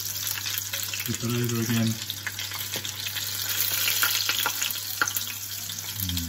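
Tempura prawns frying in hot oil give off a steady broadband sizzle and crackle. A person briefly speaks over it, and a faint bubbling hiss carries on throughout.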